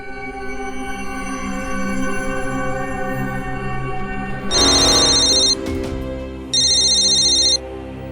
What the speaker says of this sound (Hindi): घर पर भी फोन नहीं उठा रहा।